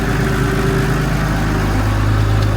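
A Massey Ferguson tractor engine drones steadily, heard from inside the cab while working on slurry spreading, a constant loud low rumble with a slight rise in pitch toward the end.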